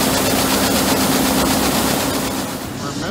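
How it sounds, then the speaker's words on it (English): A farm tractor engine moves a grain bin, a loud, steady low rumble that eases slightly near the end. "We're moving the bin with the tractor."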